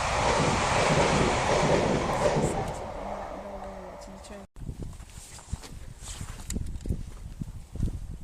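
A train passes along a rural lane's railway line, a loud rushing roar close by that cuts out abruptly, followed by quieter wind buffeting and rustling with people speaking.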